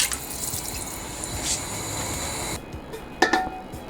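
Water runs and splashes steadily into a pot of meat and sofrito for Cuban caldosa, a continuous close pouring hiss that stops abruptly, followed by a few drips and small clinks.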